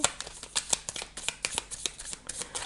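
Tarot cards being handled and laid out on a table for a reading, a quick run of close, crisp slaps and flicks of card stock with an uneven rhythm.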